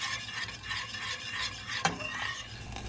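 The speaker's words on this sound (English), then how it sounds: "Stir the ingredients until they are mixed." A spoon stirs sweet soy sauce, sugar, soybean curd, sukiyaki sauce and stock together for a Cambodian hot pot dipping sauce, a steady close scraping and swishing with a single sharp clink near the end.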